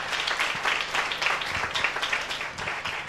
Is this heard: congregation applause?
yes